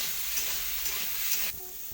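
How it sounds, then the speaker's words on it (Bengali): Vegetables, including potatoes with a little salt, fry in a pan and are stirred, giving a steady close sizzle with scraping strokes that drops slightly in level near the end. "এই সবজিগুলো আমার ভাজা হয়ে গেছে,"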